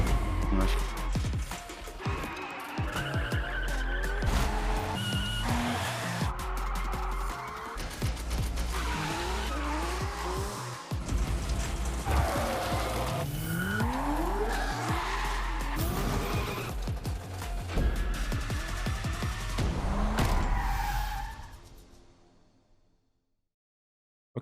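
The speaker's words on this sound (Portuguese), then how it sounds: "Subaru é cabuloso pra fazer drift." Subaru sliding sideways with long wailing tire squeals in the racing game The Crew Motorfest, the engine roaring steadily throughout while the squeals rise and fall, ending in a quick fade to silence.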